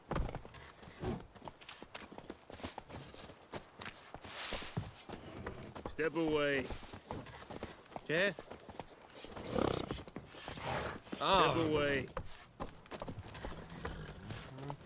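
Hooves clip-clop irregularly on a hard surface amid game ambience in The Witcher 3, while voices speak short lines over the top.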